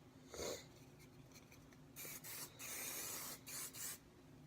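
Several hissing bursts of aerosol spray, one brief puff followed by longer sprays of varying length, close and fairly quiet with no talking.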